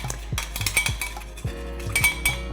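A utensil clinks and scrapes against a bowl while Caesar dressing with Dijon mustard and anchovy paste is mixed, giving quiet, irregular taps and stirring strokes close by.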